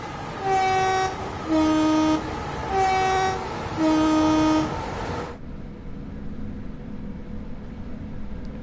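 A Class 465 train in Train Sim World 5 on the Southeastern High Speed route sounds four evenly spaced two-tone horn blasts, loud and clear, followed by a quieter steady running hum.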